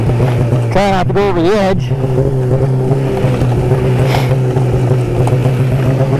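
An Arctic Cat Riot X snowmobile spins its track for traction while climbing a snowy slope, a loud close engine drone holding a steady pitch throughout, as someone speaks briefly over it.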